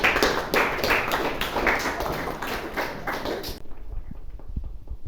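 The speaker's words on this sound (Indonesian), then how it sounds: "aplaus untuk Mas Yuta" Audience applause for a presenter named Mas Yuta, with dense rapid clapping from a room of people for several seconds that cuts off abruptly, followed by near silence with faint thumps.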